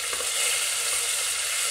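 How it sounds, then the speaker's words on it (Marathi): Finely chopped onion fries in hot oil in a pressure cooker with a steady, loud, hissing sizzle close by, continuous throughout with no talk. "या डाळीसाठी आपण एक मोठा कांदा बारीक अशा प्रकारे चिरून घेतला आहे, तो आता तेलात टाकायचा आहे आपल्याला."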